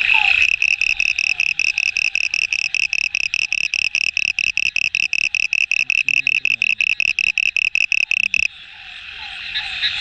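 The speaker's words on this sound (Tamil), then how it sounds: "நண்பர்களே பார்த்தீங்கன்னா தவளை என்ன சவுண்டு போடுதுன்னு பாருங்கள்." A frog croaks at night in farm fields, a loud, rapid, evenly pulsed rattling call that runs for about eight seconds, then stops, leaving faint background frogs.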